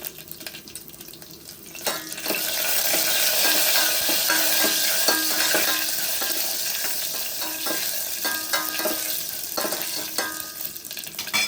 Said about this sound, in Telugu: కొద్దిగా ఆవాలు అవి వేగుతున్నప్పుడే ఇందులో ఒక రెండు మూడు ఎండుమిర్చి వేసుకోవాలి